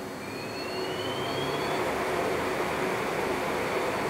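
A Hainbuch chuck spins at 3,000 RPM on a test rig, giving a steady, loud broadband whir with a faint rising whine that holds evenly throughout, no voices present.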